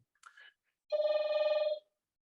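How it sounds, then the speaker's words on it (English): A single burst of telephone ringing in a hospital office, a bright electronic warble lasting just under a second, close and clear, with a short faint chirp just before it. "you will hear phone calls"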